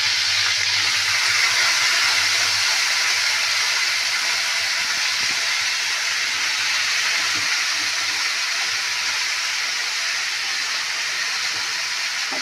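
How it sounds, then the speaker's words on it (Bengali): Cabbage and potatoes fry with cumin in a pan, giving a continuous steady hiss and sizzle at moderate loudness with no voices. "এবার বাঁধাকপি আলু একসাথে ছেড়ে দিই।"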